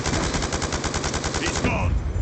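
Rapid automatic gunfire from a Black Ops II match, a dense run of close, loud shots that ends and gives way to a noisier tail, with a voice talking over it.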